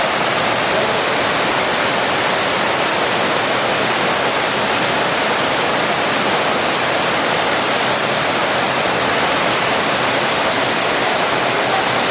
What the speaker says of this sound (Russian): труба, по которой река ходит.